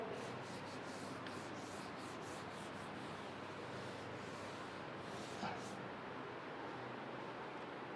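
Writing is rubbed off a board during a classroom lesson, a steady dry scrubbing with quick rhythmic strokes in the first few seconds that settles into an even rasp, close and fairly loud, with no talking.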